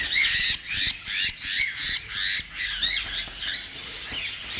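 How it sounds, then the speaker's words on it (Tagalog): Harvested birds squawk in a rapid series of about nine loud, harsh, rhythmic calls close by, each a short raspy burst, the later ones slightly softer and more ragged. "So, ayan mga kaibon."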